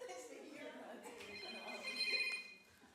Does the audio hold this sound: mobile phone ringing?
yes